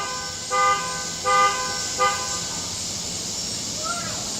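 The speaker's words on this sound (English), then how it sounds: "Random honking horn in the background." Three short car horn honks sound in a quick series, spaced under a second apart, over steady background noise at moderate distance.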